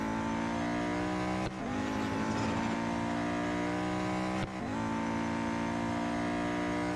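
Venom F5 hypercar engine in the Real Racing 3 game, a loud sustained high-revving tone held at full throttle, broken twice by brief gear-change dips before climbing again.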